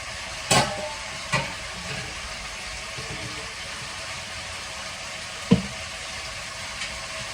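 Chicken frying in a pan for a coriander-and-chili home dinner curry, a soft steady sizzle under faint stirring, with a few sharp clinks of a spoon against the pan.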